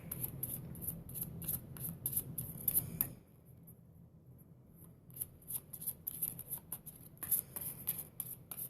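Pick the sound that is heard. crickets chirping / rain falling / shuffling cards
shuffling cards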